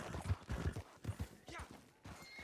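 Horse hooves clopping in Red Dead Redemption 2, a quick uneven patter of steps close by, mixed with speech and a possible soft whinny.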